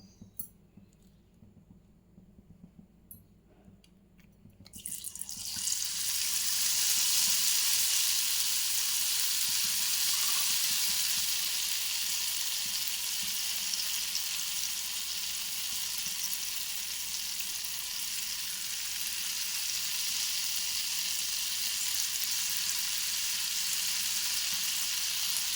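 Boondi batter drops for motichoor laddu hit hot oil after a few quiet seconds with faint clinks. A dense, steady sizzle and crackle of frying follows and holds evenly to the end.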